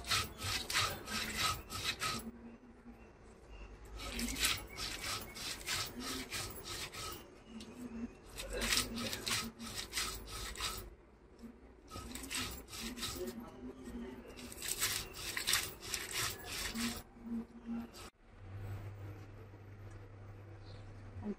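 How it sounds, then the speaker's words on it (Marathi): Garlic, cumin, turmeric and asafoetida are ground together in a kitchen, a coarse rhythmic rubbing and grating in repeated strokes with short pauses, close up. Someone talks over it at times. "लसूण, जिरं, हळद, हिंग सगळं वाटून घ्यायचं। किती फटक्यात वाटून होतं बघा।"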